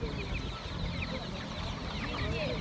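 Chickens cluck and squawk steadily amid a busy, noisy outdoor poultry market in Taşköprü, Kastamonu, with dense background clatter and no clear talk.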